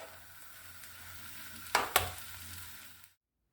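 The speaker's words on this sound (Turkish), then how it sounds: "daha önceden doğramış olduğum maydanozlarımı üzerine ekleyip 2-3 dakika kadar da kavur" Chopped parsley sizzles and fries steadily in a pan, with a couple of brief stirring scrapes near the end before the sound cuts off.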